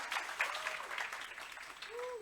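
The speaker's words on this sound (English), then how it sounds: "One more time, ladies and gentlemen, a round of applause for Chipo from Nedbank." Audience applause at an entrepreneurial resilience workshop, a steady dense clapping from a crowd that carries through the whole moment, with a faint voice or whistle-like tone rising near the end.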